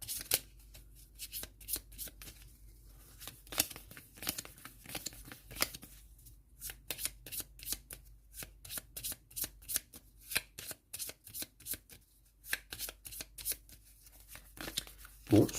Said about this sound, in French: je vais remélanger ma défausse déjà.